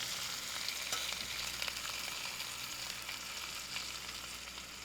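Tomatoes frying in a pan for Bengali mutton kosha, a steady close sizzle with faint stirring scrapes, no voices.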